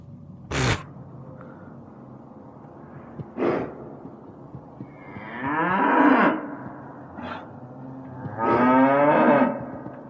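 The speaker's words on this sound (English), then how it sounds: "we were randomly hearing the ghosts of these cows" Cows moo several times in the video game Cryostasis: Sleep of Reason, long drawn-out lowing calls with a couple of short snorting sounds between them, fairly close and otherwise quiet.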